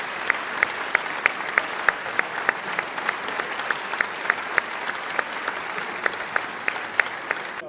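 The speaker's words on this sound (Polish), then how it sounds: "Nagrodźmy ich gorącymi oklaskami." Sustained applause fills a parliament chamber, steady dense clapping from many hands with a few sharper claps standing out, loud and continuous throughout.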